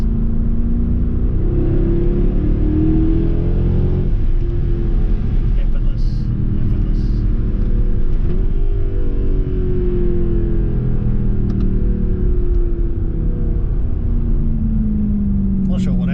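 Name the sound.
500hp sports car engine while driving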